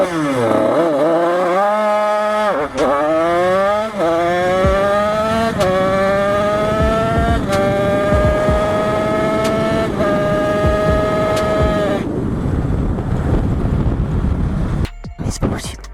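A Bidalot Factory 88 motorcycle engine revs hard on a start, its pitch climbing repeatedly through quick gear changes, loud and close with wind buffeting, then cuts off abruptly.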